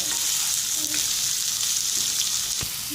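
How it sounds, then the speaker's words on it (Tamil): Onions with curry leaves and green chili sautéing in a pan, a steady close sizzle and hiss with a few scraping stirs, no talk. "இதை நல்லா வதக்கி விட்டுக்கலாம்"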